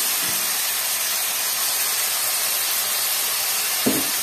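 Chicken pieces sizzling in hot oil for a tomato rice and chicken masala dish: a steady, dense hiss throughout, with a brief louder crackle near the end.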